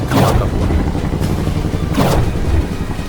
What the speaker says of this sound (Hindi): एक धमाका हुआ।